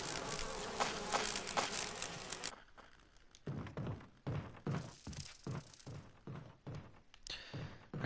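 Buzzing swarm of bees attacking the player in the video game Resident Evil Remake, a loud dense insect drone at first, then broken into repeated pulsing buzzes and thuds.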